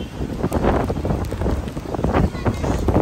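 Strong typhoon wind at Manila Bay, Manila, rushes and buffets steadily across the whole stretch, loud and rough, with some talking mixed in underneath.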